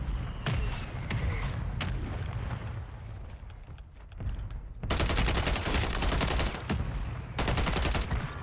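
Striker SMG fired in Warzone 3, rapid bursts of loud automatic gunfire crackling near, with a dense sustained stretch of fire in the second half and a further burst at the end.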